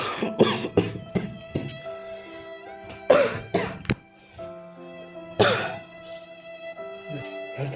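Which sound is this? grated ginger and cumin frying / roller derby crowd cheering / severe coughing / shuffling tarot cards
severe coughing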